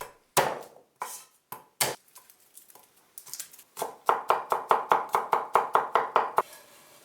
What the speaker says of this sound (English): mince 1 green onion, chop 4 cloves of garlic